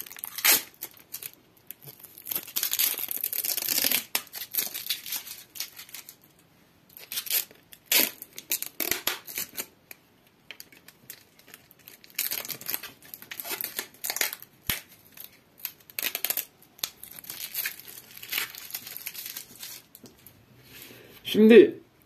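Packaging around a new Palit RTX 3060 12 GB graphics card is torn, crinkled and cut open in scattered close bursts of rustling and ripping, with quiet gaps between.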